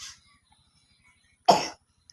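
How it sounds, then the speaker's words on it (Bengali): A single sharp cough from a person with a cold and fever, close and fairly loud, followed by a brief pause and a faint trailing sound. "এই যে কাশ"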